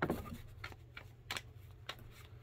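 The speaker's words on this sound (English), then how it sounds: "So we will shuffle these bad boys up." Trading cards from a 2021 National Treasures football box are shuffled by hand, a few quick papery riffles and flicks in short bursts, close and fairly quiet.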